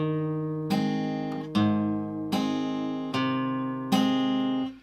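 Slow fingerpicked acoustic guitar phrase from the fourth bar of a song, five ringing chord plucks spaced about a second apart, each sustaining and decaying before the next, played alone and close.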